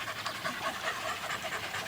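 Two dogs pant rapidly and steadily after running and digging outdoors, close by and loud, a continuous breathy rhythm with no talk over it.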